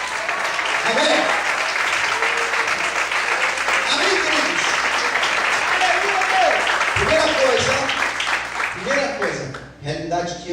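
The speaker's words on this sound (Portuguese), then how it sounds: "Você pode aplaudir e exaltar a Deus" Church congregation claps and praises God during a sermon, continuous loud applause mixed with voices shouting and cheering, tapering off near the end.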